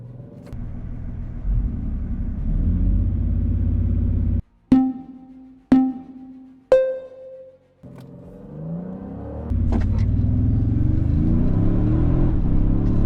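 Engines of a 2024 Toyota Sequoia, Land Rover Defender 130 and GMC Yukon roar at full throttle in a drag race, revving up through a series of sharp gear shifts, then keep droning loudly as they pull away.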